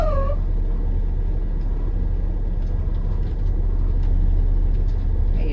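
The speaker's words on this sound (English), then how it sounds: "move at up to 5 miles an hour and apply my service brake" A school bus rolls slowly at about five miles an hour during a pre-trip brake test, its engine rumbling steadily with a brief brake hiss at the start, the low drone continuing loud and close without talk.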